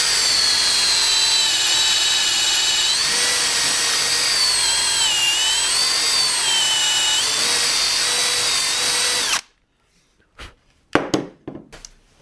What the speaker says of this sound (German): gehen dann mit dem Bohrer rein und versuchen das mal zu kippen